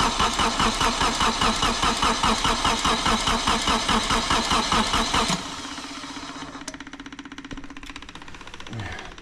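A Subaru XT, sitting unstarted for 16 years, cranks with a loud rhythmic starter chug for about five seconds, then catches and settles into a rough, lower idle with a faint voice near the end.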